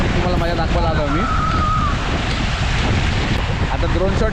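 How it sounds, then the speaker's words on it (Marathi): Strong wind buffeting near water at a village spot in Alibag, a constant loud roaring rush across the whole stretch, with a voice talking over it. "वारा पण खूप सुटला आहे."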